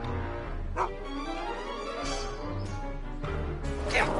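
Einstein the dog in the Back to the Future game barks and yips in several sharp bursts, close and loud, with whimpering between them over a low background hum.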